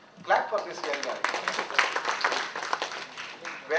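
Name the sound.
audience applause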